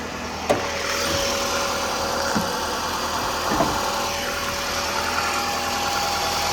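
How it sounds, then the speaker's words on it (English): A 2002 Toyota RAV4 engine with over 210,000 miles idles steadily with a smooth, even hum and a few faint clicks, close and continuous without talk. "It's a smooth sounding engine."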